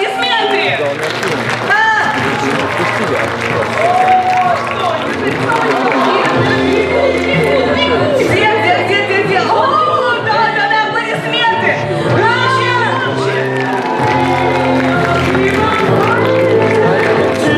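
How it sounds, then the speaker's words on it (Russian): Festival award ceremony audience in Moscow applauding a Dragon Age 2 winner, sustained loud clapping and cheering with crowd voices mixed in, steady throughout over music-like tones and announcer speech. "Москва, аплодисменты!"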